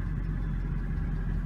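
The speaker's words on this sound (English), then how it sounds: "Well, let's listen to the engine for a quick second here." A 2012 Mercedes-Benz C63 coupe's V8 engine idles steadily with a low, throaty rumble, continuous and close, with no voices over it.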